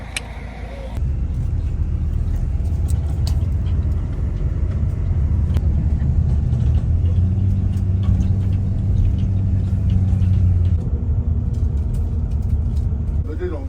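A tour bus engine running on the Great Ocean Road near Melbourne, a loud continuous low rumble heard from inside, with a brief rise in engine drone partway through.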